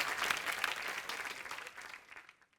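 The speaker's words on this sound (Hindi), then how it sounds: "यार एक बार सुगंधा के लिए भी जोरदार ताली हो जाए" A studio audience at a comedy show claps loudly and steadily, a dense wash of applause that fades out toward the end.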